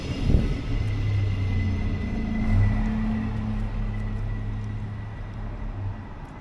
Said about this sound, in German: Guck mal, unser Zug kommt hier angefahren.